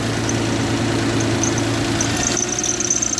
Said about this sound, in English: you hear the belt screaming its ass off?